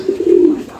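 A pigeon in a loft of young birds gives a short, close, throaty coo, a low soft rolling call that rises and fades within a moment.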